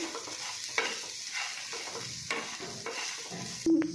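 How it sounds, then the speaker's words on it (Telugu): Sweet corn chat seasoned with chat masala and pepper being stirred, a spoon scraping and clinking steadily through the mix, with soft rhythmic strokes and a louder knock near the end. "అలా వేసుకొని ఇలా బాగా మిక్స్ అయ్యేలా కలుపుకోవాలి"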